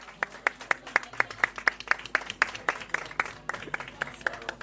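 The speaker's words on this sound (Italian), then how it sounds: "vogliamo fare ancora un applauso" An audience at a celebration party claps in a steady, fairly even rhythm: a run of distinct, close claps at moderate loudness with no other sound standing out.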